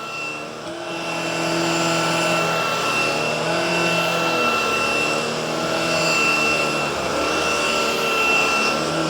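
A Shark PowerPro Flex Pet cordless vacuum, model IZ387H, whines steadily at raised suction on carpet, a loud sustained motor drone that ramps up at the start and holds with slight wavering.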